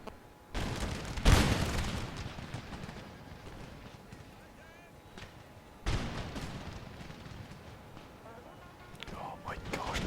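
Musket volleys in an Empire Total War battle: two loud crackling bursts of massed fire several seconds apart, each rolling off into a lingering rumble with distant battle noise between.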